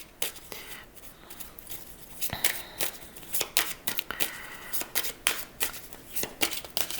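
Tarot cards are riffled and shuffled by hand, a close run of quick papery flutters and taps in uneven bursts, fairly soft with no talking over them.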